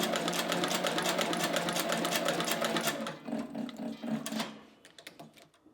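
A Cobra Class 29-18 patching sewing machine stitches through scrap leather, a dense rapid mechanical whir with a steady stitch rhythm, then slowing into separate clunks and short bursts before stopping.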